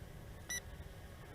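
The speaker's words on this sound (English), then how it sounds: "I took a photo. It did beep." A GPS FPV drone's camera gives a single short, high electronic beep as it takes a photo, clear over a quiet background.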